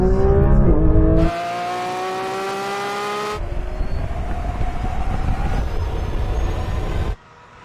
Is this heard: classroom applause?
no